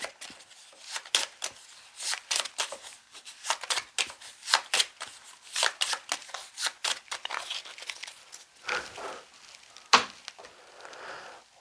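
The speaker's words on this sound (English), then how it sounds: "Shuffle up the deck here." A deck of Wingspan board game cards is riffled and shuffled repeatedly, crisp rapid flutters in quick bursts, close and clear with no talking.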